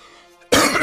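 A single sharp, loud cough bursts out close to the microphone after a moment of near quiet.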